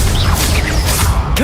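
Expelliarmus disarming spell cast in the video game Hogwarts Legacy, a loud dense burst of whooshing and crashing magic effects layered over game noise.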